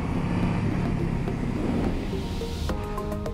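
A Honda VFR800 motorcycle engine drones steadily on a road test, its low rumble swelling and holding near and loud with wind noise, then shifting pitch briefly at the end.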